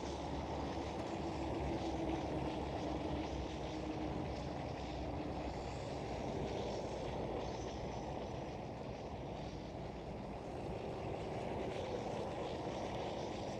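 An airliner approaching Schiphol Amsterdam airport, a continuous broad roar of jet engines heard from the ground, steady and moderately distant throughout with no talk.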